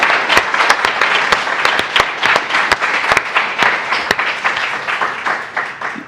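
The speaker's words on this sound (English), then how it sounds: "Can we have a big round of applause for Skeleton Crew?" A crowd applauds the Skeleton Crew cast at a Star Wars Celebration Japan fan stage, with dense sustained clapping and scattered sharp individual claps standing out, steady throughout before easing slightly at the end.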